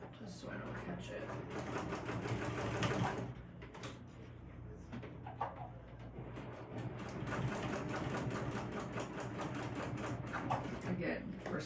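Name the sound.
sewing machine stitching a crossbody bag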